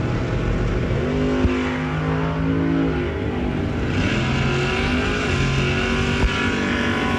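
Drag racing at a New Year Nationals bracket event, pitting a third-generation Chevrolet Camaro against a Tesla: a loud, steady engine roar with a sustained droning hum that holds for several seconds, no voices over it.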